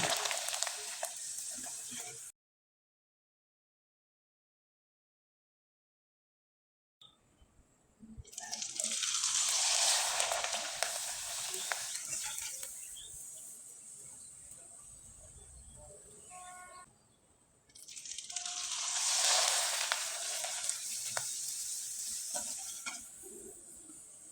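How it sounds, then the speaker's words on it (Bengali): Rice flour pitha deep-frying in oil: loud, close sizzling surges as pieces go in, with a stretch of silence near the start and a brief dip before the second burst. "একইভাবে কয়েকটা পিঠা আমি আপনাদের ভেজে দেখিয়ে দিচ্ছি"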